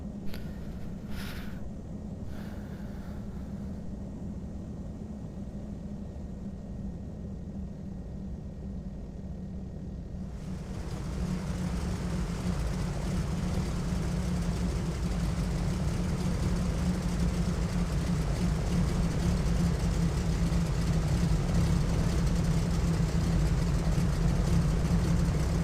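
Twin-engine Piper Seneca V powering up for a takeoff roll in FSX: a steady low engine drone that swells louder and fuller partway through, then holds a sustained roar with no talking.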